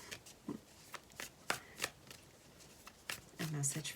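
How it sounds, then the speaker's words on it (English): A deck of cards shuffled by hand, soft quick riffling and tapping in irregular bursts, quiet and close, with a faint voice near the end. "My hands are a little shaky today, so just bear with me as I"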